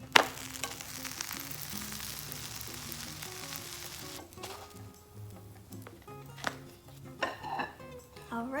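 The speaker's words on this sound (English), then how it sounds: "you're going to let it just toast in the skillet" A green grilled cheese sandwich sizzles as it toasts in a skillet, a steady crackle for about four seconds before quieter stretches broken by a few clinks and knocks of kitchen utensils.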